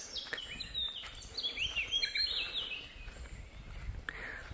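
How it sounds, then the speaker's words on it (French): Small birds chirp and twitter in quick high trills over a soft outdoor background, moderately distant, with faint rustling below. "Oh, le bruit de ces petits oiseaux."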